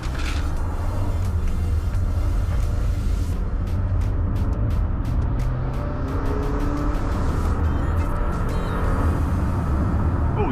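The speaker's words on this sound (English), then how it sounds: "So, I'm driving the Mercedes GLC 200 9G-tronic 4MATIC." Mercedes GLC 200 9G-tronic 4MATIC on the road, a steady engine and tyre rumble heard from inside the cabin, with broadband road noise and a few brief ticks and clicks.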